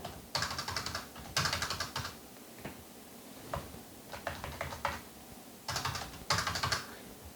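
Bursts of typing on a computer keyboard while filling in a legal cost-assessment application form, with quick clusters of key clicks separated by short pauses, close and fairly quiet.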